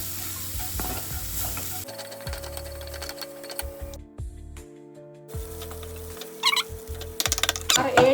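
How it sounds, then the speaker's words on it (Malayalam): A spice paste with turmeric powder and salt sautéing in a pan, with a steady sizzle, stirring scrapes and clatter, briefly quieting before resuming, all close by and with no talking. "അരപ്പ് നല്ലതായിട്ട് വഴറ്റുക."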